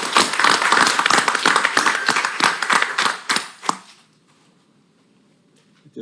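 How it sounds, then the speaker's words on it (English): A small audience gives a round of applause for a convention and visitor bureau, a quick burst of sharp, fairly near claps that fades out after about four seconds into near silence. "I think they deserve a round of applause"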